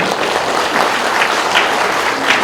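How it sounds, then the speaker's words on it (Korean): Steady applause from a crowd at a Buddhist monk's book launch event, dense and continuous clapping at even loudness throughout, with no talking over it. "동의하시면 박수 한번 부탁드립니다."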